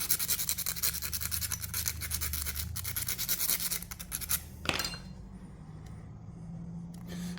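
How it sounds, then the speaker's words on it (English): A round needle file rasps at 4mm holes in a guitar pick, a dense run of quick close scraping strokes that thins out into lighter, sparser scratches and a faint clink near the end. "I just need to use a needle file. A nice round one just to work at those holes a little bit."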